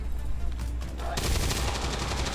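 A gunshot in the video game XCOM 2 bursts in loud and sharp, followed by a sustained bright noisy rush over a low rumbling game background.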